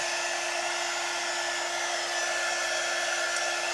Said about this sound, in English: Now we're drying the layer of crackle medium that we put on top